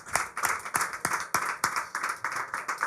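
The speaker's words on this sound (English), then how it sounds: "I think that we can applaud them." An audience at a panel session on public development banks and carbon markets claps for the panelists, a modest round of close, fairly rhythmic applause from a small group.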